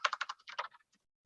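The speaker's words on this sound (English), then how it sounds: "Let me actually type a real thing here." Quick bursts of keys tapped on a computer keyboard while a message is typed out, a rapid cluster of strokes that slows and trails off into a few scattered taps.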